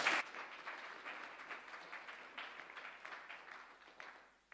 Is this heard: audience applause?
yes